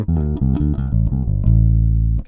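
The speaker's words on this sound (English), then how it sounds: "So what you're hearing is just this is basically just the direct sound of the bass." Sterling Stingray electric bass with round wound strings, taken as a dry direct signal, plays a short run of plucked notes that ends on a long sustained low tone, close and clear with no voices.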